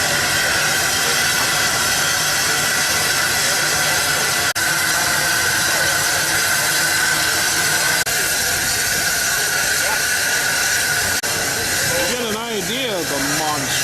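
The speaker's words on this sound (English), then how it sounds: "This is another operating steam tractor here today." A steady loud hiss of steam and a chugging antique steam tractor engine running up close at a machinery show, continuous throughout, with some mechanical rumble toward the end.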